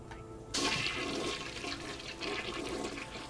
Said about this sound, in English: That's flushing.